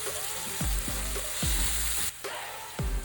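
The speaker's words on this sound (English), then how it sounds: "Add the tomatoes into the onion mixture. Here I am adding some chili powder depending on your spice level." Tomatoes and chili powder frying in an onion mixture for a stuffed squid curry, a steady loud sizzle broken by several short scraping stirs of the spoon in the pan.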